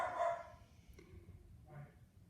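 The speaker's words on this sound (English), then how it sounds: "Sorry, that's my dogs." Household dogs bark a few times nearby, a loud burst at the start followed by a fainter bark or two, with no talking.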